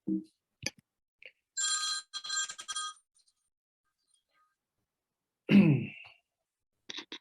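A telephone rings in two bright electronic bursts, followed by a throat clearing and a faint short tone at the end, with no speech during the ringing.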